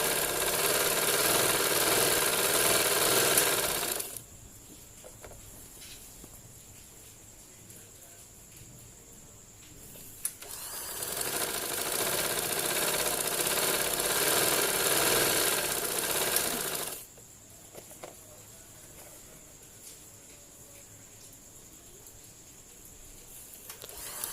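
A sewing machine runs in two sustained bursts while stitching trouser seams, each lasting several seconds with a steady whirring drone, separated by quieter pauses.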